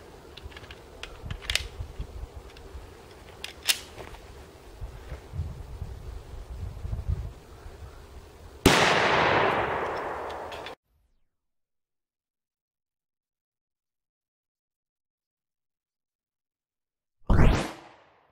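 A 9mm Speer 124 grain Gold Dot round is fired in a ballistics test: one sudden, loud, sharp report after a stretch of low background noise, followed by silence and a second brief burst near the end.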